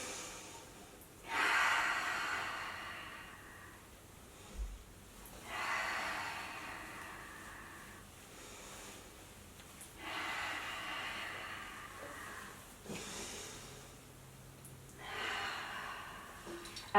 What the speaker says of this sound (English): Just taking some breaths here with your baby